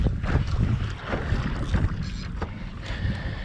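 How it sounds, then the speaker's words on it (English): Wind gusts buffet the microphone on a kayak fishing at sea off the Gold Coast, Australia, a steady rumbling roar with water sloshing close by the hull, no voices. "That wind's starting to pick up."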